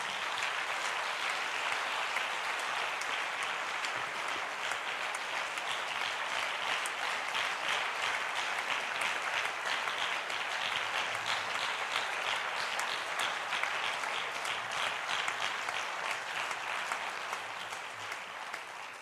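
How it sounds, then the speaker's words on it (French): A church congregation applauds loudly and steadily for Jesus, a dense sustained clapping with some cheering that fades slightly at the end. "Est-ce qu'on peut acclamer pour Jésus?"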